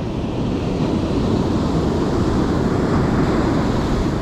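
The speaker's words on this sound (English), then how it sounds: "These nice breaks in the surf, dude" Ocean surf breaking on a beach during surf fishing, a steady loud wash of waves with wind buffeting the microphone and no voices.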